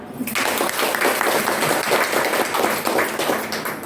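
A seated audience at a Harikathamrutasara quiz event breaks into sustained, dense applause, loud and close, with many hands clapping at once from start to finish.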